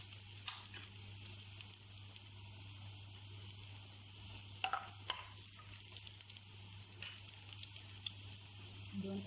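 Garlic fries in a pan, giving a steady, quiet sizzle with a few light scrapes of stirring and no talk.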